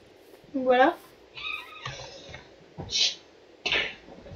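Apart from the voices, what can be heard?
cat meowing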